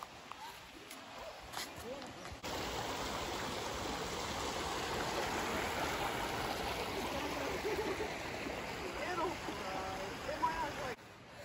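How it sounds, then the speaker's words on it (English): Flowing water from a small creek in Tennessee babbles steadily close by, a continuous rushing wash with brief quieter moments at the start and end. "We had to cross the little stream, the creek over here"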